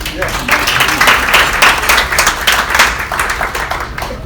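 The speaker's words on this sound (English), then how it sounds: "Give a round of applause." A live show audience at a mentalist's performance gives a round of applause, loud dense clapping filling the room steadily, with some voices under it.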